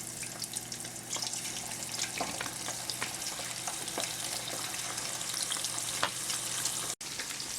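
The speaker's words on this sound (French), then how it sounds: "Laissez chauffer et ajouter" Veal sizzles and fries in hot oil in a pan, a steady dense crackle with scattered louder pops throughout, close and continuous with no voices.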